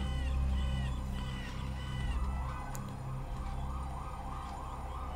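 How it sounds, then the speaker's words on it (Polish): An ambulance siren wails, rising and falling in repeated sweeps, fairly distant and steady, under a low droning hum. "I jeszcze musi karetka jechać."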